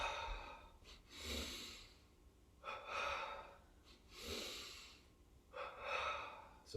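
Deep, audible exhales during a yoga breathing exercise come in slow, separate waves, each a long breathy rush lasting about a second, spaced evenly and heard close with no talking.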